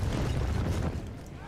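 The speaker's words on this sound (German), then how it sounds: "Ach Gott, die schießen auf uns. Kanonen." Cannon artillery fire in the Napoleonic-era battle game Napoleon Total War: a dense, continuous low rumble of booming barrage, loud and steady, then easing slightly toward the end.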